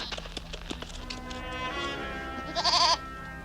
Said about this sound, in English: the pervy goat is there to get help